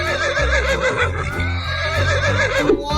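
A horse in a 3D animal video game gives a loud, wavering neigh that carries through the whole stretch over a steady game music backdrop.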